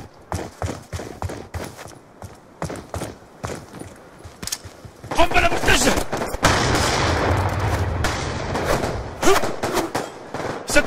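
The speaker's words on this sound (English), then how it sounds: "رصاص." Gunfire in a competitive shooter video game match in search-and-destroy mode: sharp single shots at first, then a dense burst of rapid automatic fire and explosions, loud and close, with players talking at times.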